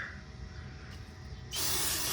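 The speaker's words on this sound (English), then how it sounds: "Make sure you spray some good old brake parts cleaner on there." Brake parts cleaner blasts from an aerosol can during an oil change on a GTR, a loud steady hiss that starts abruptly partway through after a quieter stretch of low background noise.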